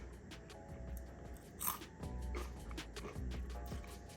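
A crisp crunchy bite into fried catfish, followed by loud close-up chewing crunches, with faint background noise throughout.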